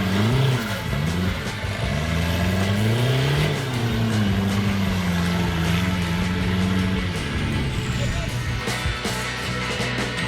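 Heavy 4x4 trial truck engines roar and rev continuously, straining loudly up close with rising and falling pitch as they climb a rain-soaked slope in New Zealand, mixed with a muddy rumble.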